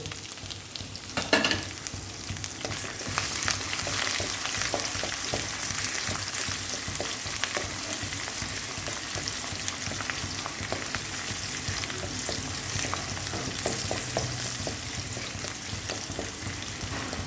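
Garlic cloves, chopped ginger and green chilies fry with spices in hot oil for a curry, a dense, even sizzle close by with occasional stirring clatter, running continuously without speech.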